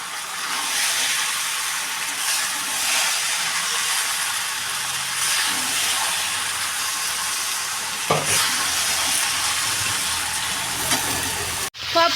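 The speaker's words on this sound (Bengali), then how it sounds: "সব কিছু দিয়ে এবার এটা ভালো করে নেড়ে চেড়ে নিতে হবে।" Sago pulao with grated coconut stirred in a frying pan: a steady, loud sizzling hiss with spatula scraping throughout, a sharp knock near the end.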